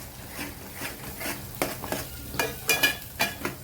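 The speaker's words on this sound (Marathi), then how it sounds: "मसाला आपला चांगला भाजून घ्यायचा तेल सुटेपर्यंत" Masala of red chilli powder, garam masala and ground coriander-cumin roasts in oil while a spoon stirs it, giving soft sizzling under uneven metallic scrapes and clinks against the pan that grow sharper toward the end.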